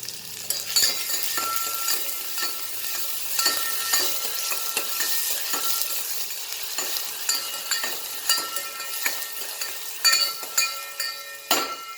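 Chopped onions, two of them, fry in oil in a pan for a North Karnataka harrave greens palya, with steady sizzling broken by frequent clinks and scrapes of a stirring spoon against the metal, close and alone with no talk.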